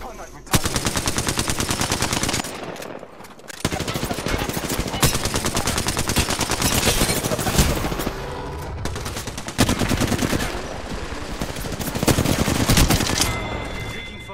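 Video game gunfire in a shooter match: rapid automatic bursts of machine-gun fire, loud and sustained with brief pauses between volleys, dense and close throughout.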